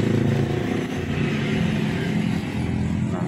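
A 2016 Toyota Avanza engine held at a steady high rev with the gas pedal pressed down, a loud, continuous, close engine drone with a slight rough tremble and no speech.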